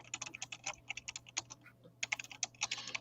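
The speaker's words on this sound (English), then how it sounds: "I have a clickety-clackety keyboard" Fast, loud clicky keystrokes on a mechanical computer keyboard rattle out in close bursts, with a short pause in the middle before the typing resumes.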